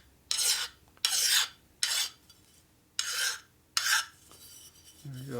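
A file or deburring tool rasps over a sharp metal edge while building a 1973 Harley shovelhead custom bobber, five distinct close scraping strokes spaced about a second apart, with quiet pauses between.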